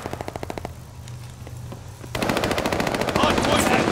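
Rapid automatic gunfire in a Call of Duty: Vanguard Hardpoint multiplayer match, with bursts of machine-gun fire, a brief lull, then heavier sustained shooting.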